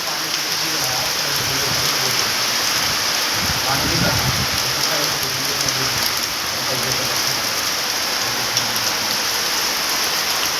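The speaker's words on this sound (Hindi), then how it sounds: "पानी तो गिर रहा है झमाझम बारिश की वजह से" Heavy rain pours down steadily, a dense continuous hiss of drops on surfaces, loud and unbroken throughout.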